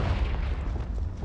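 A Confringo fire spell blast in Hogwarts Legacy, a dense, loud booming rumble that fills the whole short moment without a break.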